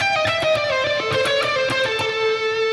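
A short melodic electric guitar phrase from a solo, with sustained, ringing notes and a few picked accents, played alone at moderate volume.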